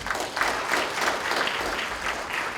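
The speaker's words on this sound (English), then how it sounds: "we give him a hand clap" An audience at a Haitian community gala in Boston claps its hands in dense, steady applause that holds at an even level throughout.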